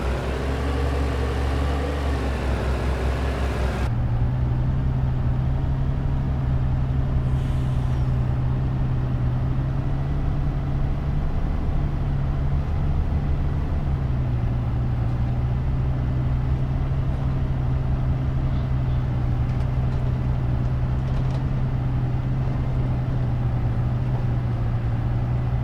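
Deep rumble of a 1500 horsepower truck in Farming Simulator 22, a steady engine drone with a low harmonic hum that holds throughout, changing pitch slightly as it runs, loud and close with no talking.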